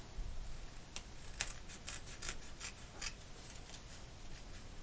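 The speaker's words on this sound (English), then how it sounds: "Now what I'm going to do is cut off all of the excess. Just using my Tim Holtz Ionic scissors" Tim Holtz Ionic scissors trim away excess length in a crafting session, giving a close, quiet run of crisp snipping strokes in an irregular rhythm over a soft rustling background, with no voices.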